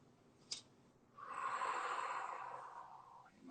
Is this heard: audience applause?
no